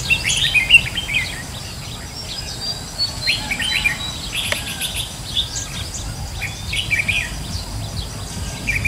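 Decoy songbird singing outdoors: bright, high chirps and short tweeting phrases recurring throughout, fairly close, over a steady bed of insect and cricket buzz, with no talking.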